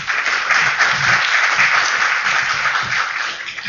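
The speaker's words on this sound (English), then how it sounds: "So if you could all give a big round of applause for Shishka." An audience applauds a speaker being welcomed to the stage at an Ignite live talk event, a steady, full burst of clapping that holds throughout and tapers a little at the end.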